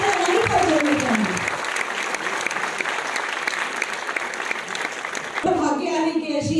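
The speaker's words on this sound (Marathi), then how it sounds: "टाळ्या जोरदार झाल्या पाहिजे वर्षा फाळके मॅमसाठी" Audience applause welcoming a guest onto the stage at a Marathi film screening event: loud, dense, continuous clapping that fills the whole stretch, with a voice speaking over it at the start and again near the end.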